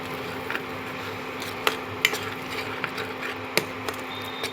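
Spice paste for a potato curry, sweetened with a spoonful of sugar, stirred and fried in oil until the oil separates: a faint low sizzle dotted with sparse spoon clicks and scrapes against the pan.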